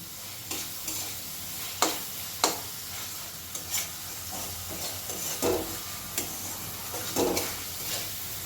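Spice paste blended with tomato fries over a medium gas flame for a spicy tangra fish curry, a soft steady sizzle punctuated by a series of spoon scrapes and stirs, close-up and uninterrupted by talk.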